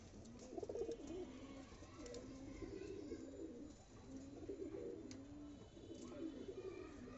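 Pigeons in a loft coo in soft, repeated low calls that overlap one another, faint and steady throughout.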